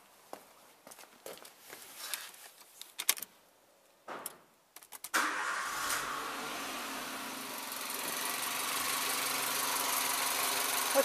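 A Nissan Micra CR10 engine fires up after a broken, skipped timing chain repair, settling into a steady, fairly loud close-up idle that runs continuously after a few seconds of scattered workshop clatter.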